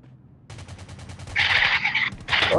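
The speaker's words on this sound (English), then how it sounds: "Shooting!" Gunfire from the video game Rules of Survival, a quick burst of rapid shots followed by a louder sharp volley after a brief pause, close and prominent.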